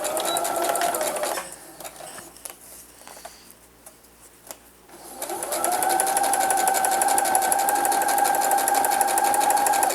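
A sewing machine stitching a seam near the edge of a scalloped wallet, running in a loud steady whirring drone, pausing briefly for a few seconds of quieter handling, then resuming at full speed.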